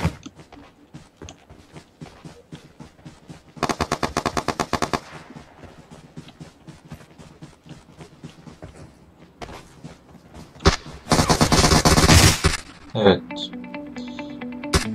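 Bursts of M16 rifle fire and pump shotgun blasts in PUBG Mobile, rapid loud volleys with dense repeated shots and echoing tails, some distant and some close.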